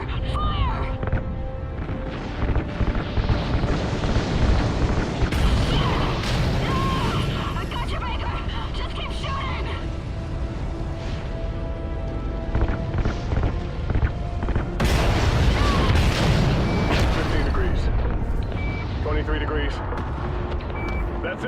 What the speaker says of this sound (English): Ignite those RCS fuel lines.